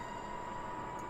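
A Glasgow Subway train in Train Simulator Classic pulls into a station with a steady rumble and a thin, constant whine, holding at one level throughout.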